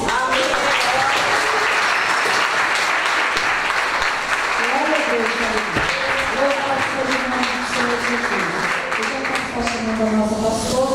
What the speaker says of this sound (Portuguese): Vamos receber a nossa pastora com palmas para Jesus.